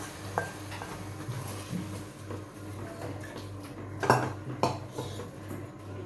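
A spoon stirs boiled dal into spiced masala in a pot for dal khichdi, with soft scraping and a few sharper clinks against the metal over a steady low hum; no talk.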